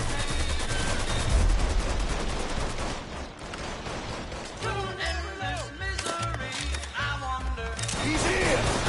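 Gunfire in the video game Mafia III: dense, rapid shots fill the first three seconds, then more scattered bursts continue under shouted in-game voices and music.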